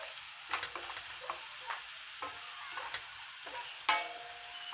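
Wheat flour and onion fry in olive oil with a steady, quiet sizzle. Occasional utensil stirs and clinks sound close against the pan, and no one speaks.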